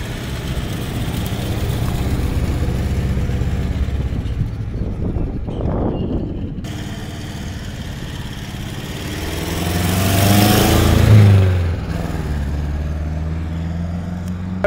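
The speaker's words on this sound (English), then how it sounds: "A sports car in America, wheeling down the road." A 1966 Datsun 1600 roadster sports car runs down an American road, its engine a steady, moderately loud drone that swells briefly as it comes closer, then settles again.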